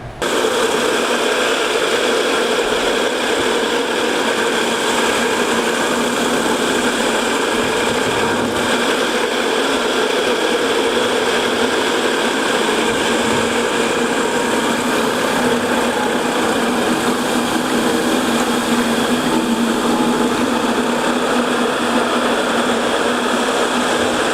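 A floor machine grinds epoxy and glue off concrete with a loud, continuous droning whir and a gritty rasp underneath, close and unbroken throughout, with no talking.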